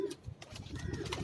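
Pigeons on a house rooftop in New Rizvia Society, Karachi, give a few soft coos and rustling wing movements close by, low and fairly quiet over a faint background hum, with no talking.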